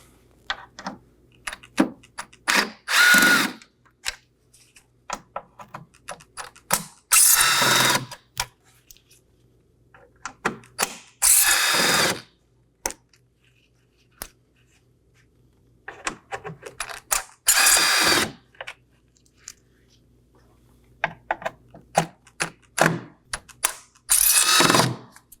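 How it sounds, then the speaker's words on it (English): A power driver spins out six T15 Torx screws from the grille of a 2018-2024 Chevrolet Equinox 1.5L, giving repeated short whirring bursts up close, each followed by a quiet pause. "I'll be using a T15 Torx bit."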